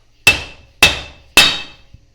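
Three loud, evenly spaced metal-on-metal hammer blows ring out close by, each striking a Dana 30 axle during teardown and leaving a short ringing decay.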